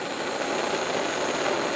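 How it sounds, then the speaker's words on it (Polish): A portable gas burner torch aimed at a thick stick to start a bushcraft fire gives a loud, steady roaring hiss of flame that holds unbroken throughout, with no speech. "Tak więc z pomocą takiego palnika szybko rozpalimy ogień."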